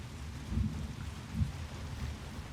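Rain pattering on a roof in the game Hunt: Showdown, a steady even hiss of drops with low rumbling underneath and slight swells in loudness, no voices.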